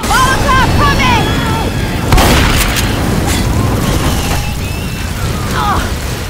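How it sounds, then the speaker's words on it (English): A Molotov cocktail in Left 4 Dead 2 is thrown and bursts into a loud, close whoosh of flame amid ongoing game noise, with character voices calling out over it. "Molotov coming!"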